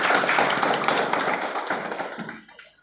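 Audience clapping in a crowd, a dense burst of applause that is loud at first and then fades out over a few seconds.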